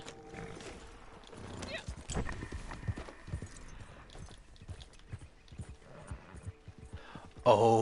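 Horse hooves clip-clop in Red Dead Redemption 2 Online, a steady rhythmic trot of repeated thuds, with people talking over the sound and a brief louder burst near the end.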